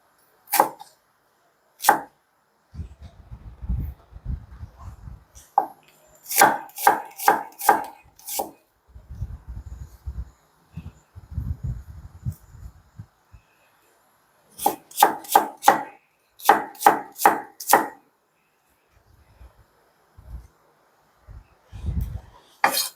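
A knife chops onion on a cutting board in quick bursts of sharp, close taps, with several rapid runs of regular knocks between softer rustling as pieces are gathered, and short silent pauses.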